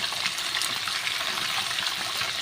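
Beans, potato and eggplant frying in a pan along with small mixed-vegetable pieces, a steady close sizzle with a crackling hiss and faint stirring throughout, and no voices.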